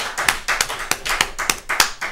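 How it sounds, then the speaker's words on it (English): An audience applauds at a live magic show, a brief burst of uneven hand claps ringing out close and fairly loud with no voices over it. "Give him a round of applause, ladies and gentlemen."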